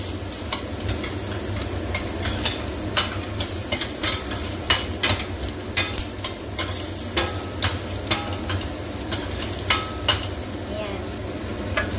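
Bitter gourd being sautéed with browned onion and garlic in a pan: a continuous frying sizzle, with frequent clacks and scrapes of a utensil stirring against the pan. No one speaks.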